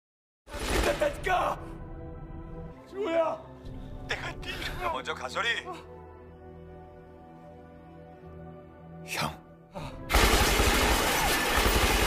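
Gunfire rings out in a shootout between robbers and police in a heist film, with sharp bursts of shots over a tense musical score, close and loud, and a louder burst at the end.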